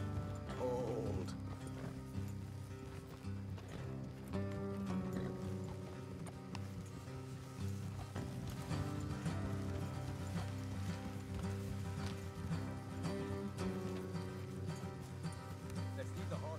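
Steady hoof clip-clop from horses in Red Dead Redemption 2 runs throughout, fairly quiet, over a dense layer of game music and ambient sound.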